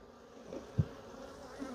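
Honeybees swarm and buzz around an open, agitated hive being worked with smoke, a steady close drone with a brief louder swell.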